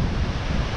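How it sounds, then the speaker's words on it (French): Big waves crash continuously on a red-flag beach at Da Nang in winter, a loud, steady roar of surf with wind buffeting the microphone and no pauses. "Il y a énormément de vagues"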